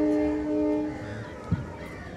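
A train sounds a steady horn near a railway platform, the tone holding for under a second before fading into a low rumble of rail noise with a brief knock.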